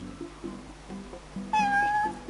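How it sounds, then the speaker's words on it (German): Cat meowing in the video game Final Fantasy XV, a soft meow followed by a louder, drawn-out tonal mew near the end, heard alone over quiet game background. "Eine Katze."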